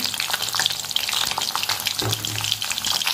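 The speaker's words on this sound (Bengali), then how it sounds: "কড়াই আমি তেল দিয়ে দেবো, ডাঁটাটা আমি দিয়ে দিয়েছি। এবার আমি দিয়ে দেবো বেগুন," Eggplant and vegetable stems fry in hot oil in a wok, a busy steady sizzle with crackling bursts and occasional stirring scrapes, close and without talk.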